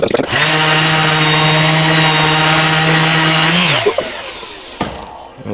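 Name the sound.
orbital sander sanding pitted brass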